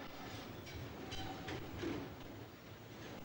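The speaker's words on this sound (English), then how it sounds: "Here we see a train of EPB stock approaching Holborn Viaduct" An EPB stock electric train approaching Holborn Viaduct station in London, a steady, fairly distant rumble of wheels and motors with faint rail clatter, no voices.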